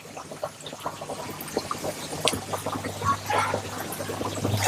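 A pump drains water from a fish pond, giving a continuous splashing, gurgling gush that swells louder toward the end, with no voices.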